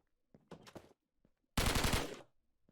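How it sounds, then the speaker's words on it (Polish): Gunfire in a Minecraft SCP game, with a short burst of rapid shots followed by a longer, louder automatic volley, close and harsh against near silence. "Kogoś tam strzela."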